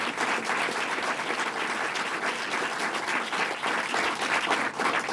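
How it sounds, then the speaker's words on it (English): An audience at a campus sexual assault policy event gives sustained applause, a dense, even roar of many clapping hands lasting several seconds, with no voices over it. "let's give Christine another round of applause for a job really well done"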